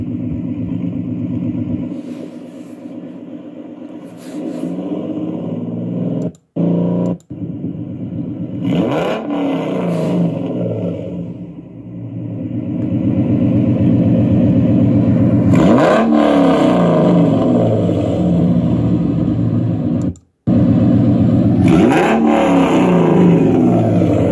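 Car with a 4.0 engine revving repeatedly, loud and close, with several throttle blips rising and falling, a few brief cutoffs between pulls, and a sustained high rev toward the end; no talking.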